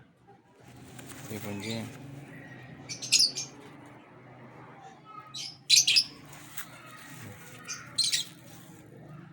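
Pigeons with clipped wings, held at close range, give short bursts of cooing and flapping squawks between spans of someone talking.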